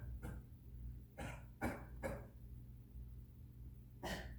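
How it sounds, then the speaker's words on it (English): Several short, breathy coughs sound close by at irregular intervals, separated by quiet pauses. "can you cough?"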